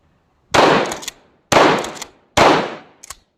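Three sharp handgun shots fired at a steady pace about one second apart, each loud and close with a short decaying tail, and a faint clink after the last.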